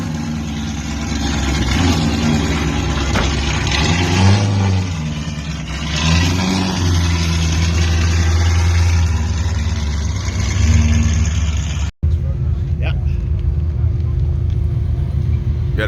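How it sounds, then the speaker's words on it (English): Jeep off-road race rig at the 2023 King of the Hammers start line warming up, a loud steady engine rumble with occasional revs under nearby talk, cutting out abruptly near the end. "we'll fire up the Jeep and warm up rear diff fluid, tranny and transfer case, get the engine all warmed up"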